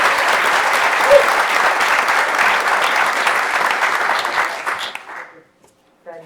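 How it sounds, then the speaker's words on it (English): Audience applause for student concert band performers at a school board meeting: dense, sustained clapping for about five seconds that tapers off into quiet, with a brief voice at the very end. "Final round of applause for all of us."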